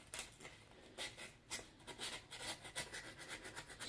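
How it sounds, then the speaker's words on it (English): Sandpaper rubbed over a rusted metal piece to strip off the rust, giving a quiet, uneven rasp in short repeated strokes, close by with no talking. "I'm going to take the sandpaper over here."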